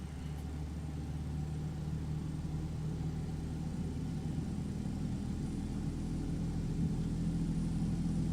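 Tri-engine MD-11 freighter's number 3 engine spooling up in X-Plane 12, a steady low rumble with a faint rising whine, continuous and fairly even throughout with no voices.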